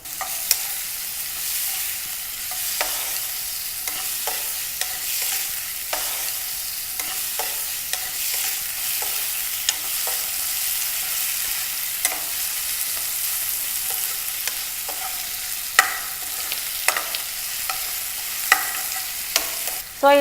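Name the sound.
boneless chicken pieces frying in a pan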